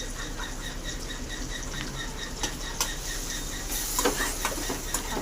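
Chili powder, turmeric and chutney frying in a pan, a soft steady sizzle with light scraping stirs and a few sharper clicks, close and fairly quiet with no talking.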